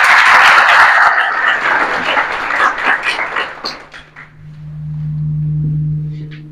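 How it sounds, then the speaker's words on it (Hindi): A seminar audience applauds at a national human rights seminar in a college hall, a dense burst of clapping that thins into scattered claps and fades out, leaving a low steady hum. "तो इस बात पे आपको ताली बजाना चाहिए अपनी कंट्री के लिए।"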